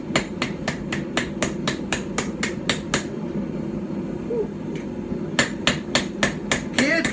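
A hammer forges a knife flat on a small stump anvil, a quick run of sharp ringing blows, a short pause, then a few more strikes close by.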